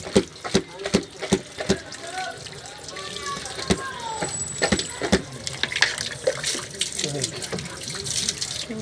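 A tap runs steadily while someone cleans a water filter, the flow continuing under sharp clattering knocks and scattered talk.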